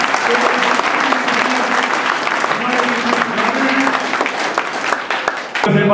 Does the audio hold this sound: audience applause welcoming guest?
yes